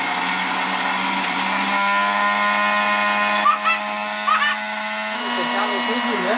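An electric mixer grinder whirs steadily as it grinds moringa leaves into powder, a continuous motor hum running throughout, with brief voices briefly cutting in over it.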